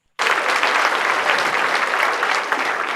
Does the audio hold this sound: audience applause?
yes